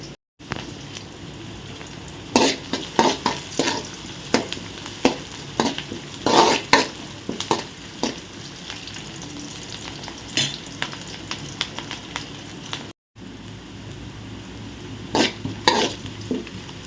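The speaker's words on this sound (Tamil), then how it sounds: "வெங்காயம் நல்லா வதங்கி வந்துடுச்சு" Onions sauté in a pan while vermicelli is cooked, making a steady sizzle punctuated by frequent sharp scrapes and taps of stirring, with a brief silent gap near the middle and no speech.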